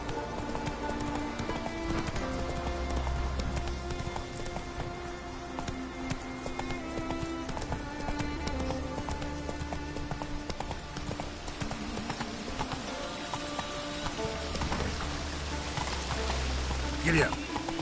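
Steady, rhythmic hoofbeats of a horse galloping in a PS4 video game, continuous and fairly loud over background game music and ambient rain-like patter, with no talking.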